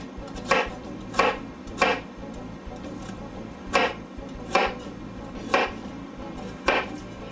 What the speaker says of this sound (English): I'm going to take about 1/4 of an onion here.